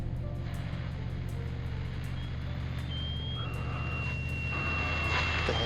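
A steady high electronic tone, an electromagnetic pulse tone in a science-fiction film, glides in and holds over a loud, dense engine rumble, with faint rhythmic pulsing throughout.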